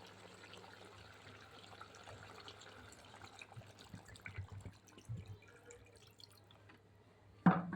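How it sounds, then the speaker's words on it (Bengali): Water is poured into a pot of braised chicken curry, making a faint, steady trickle and drip over a low hum, ending in a sharp, louder clatter. "এখন এর মধ্যে আমি আর একটু পানি অ্যাড করব"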